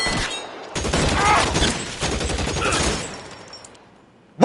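Gunfire in the detective game L.A. Noire, heard as loud bursts of rapid shots in two long volleys with short gaps, ending in a sharp single crack, close and dominant with little else over it.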